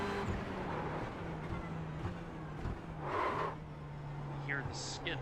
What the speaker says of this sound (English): Hear the skid there because of the transition from asphalt